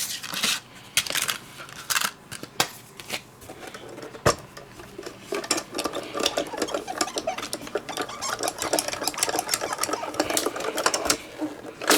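A hand-cranked die-cutting machine presses flourish embossing dies through with irregular clicking, crunching and grinding that grows denser toward the end. Light handling sounds mix in nearby.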